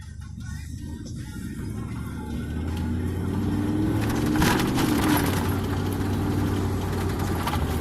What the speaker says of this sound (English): It spooled up and got me up to speed pretty quick.